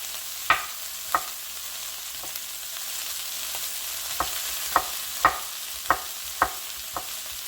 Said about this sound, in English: You can keep sauteing.